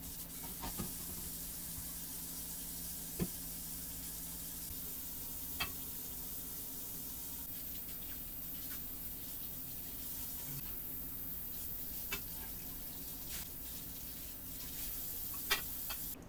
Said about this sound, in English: So we're going to wash everything that we're going to use today.